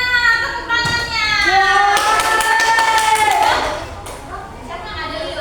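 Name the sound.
classroom applause, students clapping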